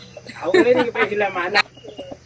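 Chickens on a poultry farm give a run of loud, close clucks and squawks, a rising burst of calls followed by softer, short clucks trailing off.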